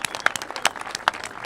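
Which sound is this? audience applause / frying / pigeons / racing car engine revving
audience applause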